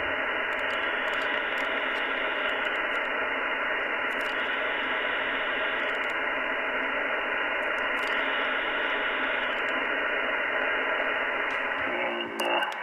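Yaesu FTdx-10 radio receiver set to a wide bandwidth, giving a steady broadband hiss of static that holds at an even level for the whole stretch, with a brief change at the very end.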